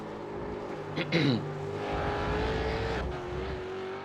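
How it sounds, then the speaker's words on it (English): A V8 Supercar engine in a racing video game at Road America drones and revs at high pitch, steady and loud, with a brief rising whine near the start, under faint commentary. "He's absolutely tanking it. You can hear his revs at the top end."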